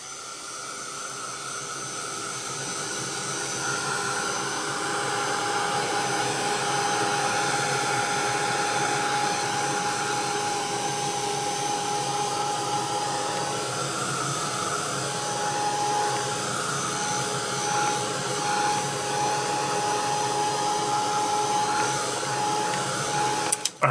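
An electric heat tool runs in one continuous, steady whooshing drone with a faint whine, drying matte medium and tissue paper on an art journal page. It is fairly close and carries on without pause, with no talking.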